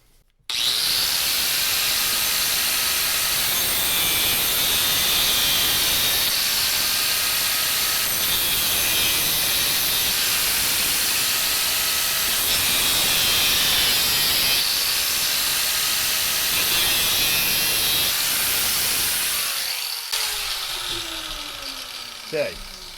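Steel being cut for a rear camera mount on a John Deere 1025R tractor, a loud, continuous grinding hiss that runs steadily for about twenty seconds with brief dips, close by, then tapers off at the end.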